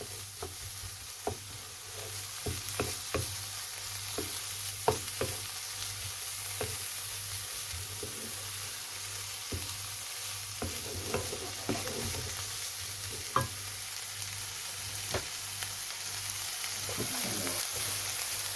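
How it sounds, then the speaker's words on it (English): Beef mince browning in a hot pan for a chilli, a steady sizzling fry with occasional stirring scrapes and clicks, close and continuous under a constant low background hum. "I'm going to put in the beef. And then we're going to cook that until it's browned off"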